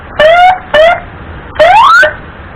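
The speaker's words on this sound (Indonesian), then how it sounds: "dan sirine." Siren fitted to a custom OJMX motorbike gives two short rising wails and then a longer upward sweep, loud and close, with no voices over it.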